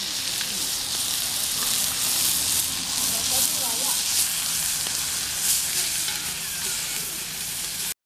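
Squirrel meat fries in oil over a village fire with a loud, continuous sizzle and crackle that holds steady for about eight seconds, then cuts off abruptly.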